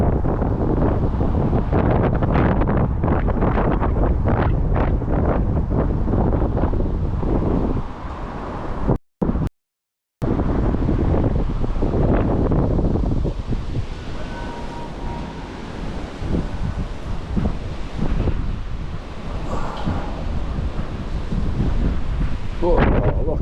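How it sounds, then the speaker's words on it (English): Strong wind by the River Irwell in Manchester roars and buffets the microphone in heavy, rumbling gusts, briefly cutting out before the blustery roar resumes, with a voice faintly audible at times. "blooming heck, it's windy. It's like a wind tunnel."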